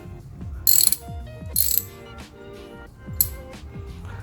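A ratchet wrench fitted with a 10 mm socket clicks in quick, close bursts of crisp pawl ticks, with a few brighter metallic clinks between strokes, heard while working on a Toyota Innova's squeaky hatch.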